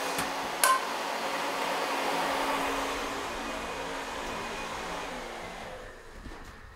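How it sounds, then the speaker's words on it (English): A hair dryer blows steadily at close range during ping pong trick shots, a constant whooshing hum that holds for several seconds before tapering off, with a brief knock near the start and no speech. "How about a hair dryer?"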